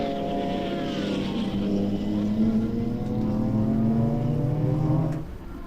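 Mercedes touring race cars lapping Balaton Park in an endurance race, engines roaring loud and steady as they pass, with a rising drone that fades near the end.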